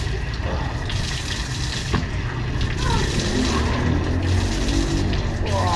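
Water runs steadily from a holy water fountain at an outdoor shrine, a continuous close splashing stream under broad noise, with a voice speaking over it.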